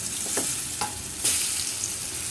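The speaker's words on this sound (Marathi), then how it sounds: "आता हे खालचे बाजू भाजलेले आहे दुसरी बाजू अशीच भाजून घ्यायचे" Bread patties toast and fry in oil on a pan, giving a close, steady sizzle with a few sharper spatters and crackles, no voices present.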